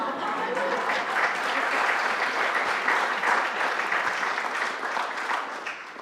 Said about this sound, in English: A round of applause for these musicians who led you rather than me leading you.